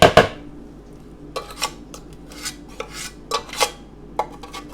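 A spoon scrapes and scoops through thick chocolate pudding made with avocado, giving a few soft, separate scraping and clinking strokes with quiet pauses between them, close by, with no talking.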